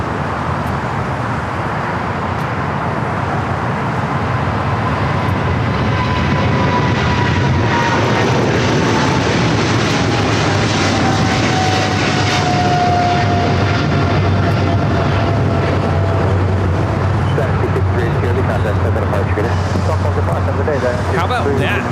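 An airliner takes off from the runway at LAX, a loud sustained roar with a slowly shifting whine, heard from nearby and building in the middle before staying strong to the end.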